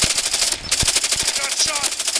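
Rapid gunfire in the mobile shooter game Call of Duty Mobile during a Hardpoint match, sharp repeated shots with a brief pause, loud and close throughout.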